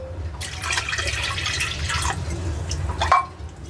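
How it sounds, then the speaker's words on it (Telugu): Juice for Telangana-style Ugadi pachadi is poured into a clay pot, making close, uneven trickling and splashing with a brief louder gush near the end. "చూడండి అంతా ఇప్పుడు అమ్మ కుండలో పోస్తున్నదండి జ్యూసు పోసుకోవాలి"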